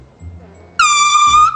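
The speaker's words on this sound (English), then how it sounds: "I have set up in the corner by the door and air horn angled, so the door is open." An air horn set in a garage corner by the door for a prank blasts suddenly after a faint low rumble, a loud piercing sustained honk lasting under a second.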